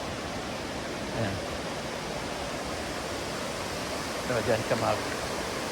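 A river flows steadily beside souvenir shops in Jamaica, a constant broad wash of rushing water throughout, with people talking briefly over it.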